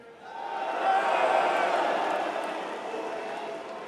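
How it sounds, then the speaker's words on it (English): Arena crowd at The International 2025 Dota 2 tournament booing loudly together, a sustained swell of many voices rising quickly, peaking, then slowly fading. "May that be the loudest boo I've ever heard on stage while I'm there"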